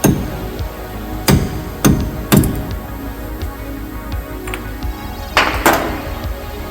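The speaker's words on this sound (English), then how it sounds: "Now we gotta get our cap off." Wheel bearing cap tapped off a 1997 Ford F150 wheel hub, a handful of sharp metallic knocks spaced irregularly, a pair close together near the start and two more near the end, loud and close over a low background hum.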